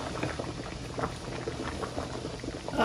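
Pasta boiling in a pot of water, a steady low bubbling and rolling simmer heard close up with no voices.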